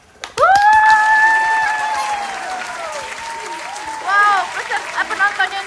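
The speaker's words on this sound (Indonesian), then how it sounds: "Sekarang kita tepuk tangan untuk Nebia" Audience at a children's hula hoop contest clapping for a contestant; loud, sustained applause rises sharply and tapers off, with a high voice and excited shouts riding over it.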